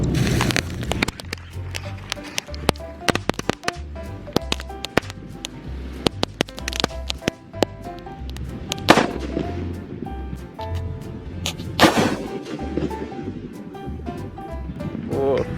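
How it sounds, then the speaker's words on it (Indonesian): A long burst of large firecrackers crackles and pops rapidly, punctuated by several louder, sharper blasts, with voices heard faintly underneath. "ini yang terakhir adalah mercon super bal. Kita nyalakan ya seperti apa reaksinya"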